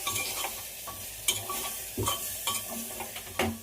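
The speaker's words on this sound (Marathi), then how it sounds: "थोडीशी हळद टाकली मी त्याला असं परतून घ्यायचं" Rice and lentils sautéed with turmeric in a pot for khichdi, a soft sizzle under repeated spoon scrapes and clinks against the pan, close and fairly quiet, with no speech.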